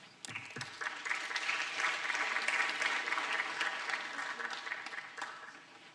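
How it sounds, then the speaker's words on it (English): Audience applause at the Africa Business Forum, a broad crowd of clapping that swells in after a brief start, holds steady and tapers away near the end. "Please give a warm round of applause"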